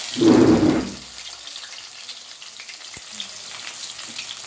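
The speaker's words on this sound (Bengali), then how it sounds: "তেলটা গরম হয়ে গেছে, পেঁয়াজ ছেড়ে দিচ্ছি।" Onions drop into hot mustard oil with a loud burst of sizzle that swells for under a second, then settles into a faint, steady crackle of frying with no voices.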